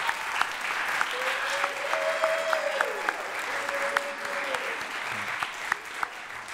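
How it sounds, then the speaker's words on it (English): Congregation applause at a traditional church worship service, steady, even clapping that carries on for several seconds while a sustained tone runs through the middle. "one more round of applause for this group"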